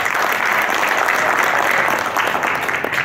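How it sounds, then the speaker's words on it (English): An audience applauds steadily at an international trade summit and exhibition, a dense continuous wash of clapping that holds at a loud, even level throughout. "Please give her a round of applause."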